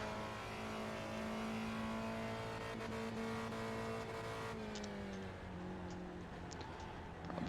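A Spec Racer Ford engine in iRacing at Oulton Park holds a steady, fairly quiet drone of rising and then falling pitch, with a faint sound of tyres or road under it.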